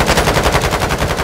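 Automatic gunfire in Call of Duty Warzone, rapid sustained bursts of close, loud shots firing in a steady rhythm with no pauses, filling the whole moment.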